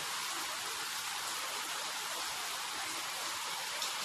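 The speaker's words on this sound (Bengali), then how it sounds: "দেখো দেখো কি বৃষ্টি হচ্ছে মুষলধারে" Heavy rain pours down steadily, a dense, even roar of water hitting surfaces with no letup.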